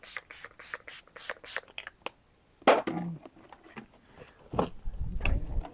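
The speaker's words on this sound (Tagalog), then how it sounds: "Ulit sa aking favorite na Skindinavia setting spray." Skindinavia makeup setting spray mists out in a quick series of short hissing pumps, followed by faint handling clatter and a longer, softer spray near the end.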